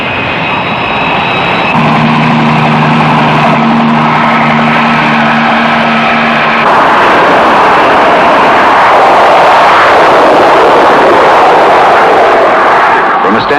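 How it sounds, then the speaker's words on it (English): A 20-ton jet aircraft launches from an aircraft carrier in a 1966 film, with a loud steady engine roar that swells into a broad rushing blast, a tonal whine early on, and a voice talking over it. "Standing start, 20 tons of aircraft reach flying speed in 2 seconds flat."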